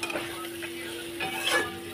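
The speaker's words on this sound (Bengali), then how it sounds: "জিরে ধনে লঙ্কা নুন হলুদ দিয়ে এটা কষিয়ে নেবে কম আঁচে" Cumin, coriander, chilli, salt and turmeric sautéing over low heat in a pan for a thin hilsa fish curry with ridge gourd and eggplant, a soft steady sizzle with light stirring scrapes, close and without talk.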